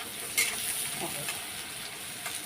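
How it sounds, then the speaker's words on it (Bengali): Sliced onions and green chillies frying in oil in a home kitchen, a soft steady sizzle with a couple of light clinks of the utensil, fairly quiet and close. "এই যে এখন আমি পেঁয়াজটা ভাজা বসিয়ে দিলাম, পেঁয়াজ আর কাঁচা লঙ্কা"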